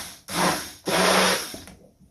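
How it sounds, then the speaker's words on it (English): An electric stick blender whirs loudly through soap batter for a Kimberley Sunrise soap, running in two close bursts with a brief pause between them before winding down to silence. "I will just mix these a bit with the stick blender"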